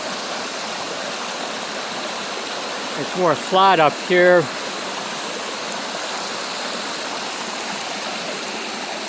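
A small waterfall on a stream crossing along a hiking trail in Lake Superior Provincial Park rushes steadily and loud in the foreground, with someone briefly speaking over it midway.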